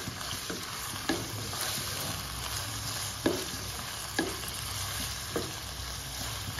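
Something fries on a high flame in a pan before onions go in: a steady broadband sizzle with occasional louder stirring scrapes, near and continuous, with no talking.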